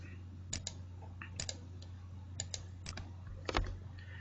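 Computer clicks while signing in to a Wikispaces account: a scattered series of light, sharp clicks, some in quick pairs, close by over a faint steady hum.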